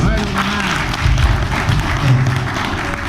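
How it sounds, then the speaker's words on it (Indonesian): An audience claps at a family day event, a dense loud patter of hands lasting a few seconds, with some voices mixed in beneath the clapping. "Tepuk tangan."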